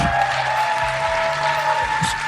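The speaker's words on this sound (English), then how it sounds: "big round of applause for George" A crowd applauds George at a community event, a close, steady wash of clapping with a humming tone and a voice speaking over it.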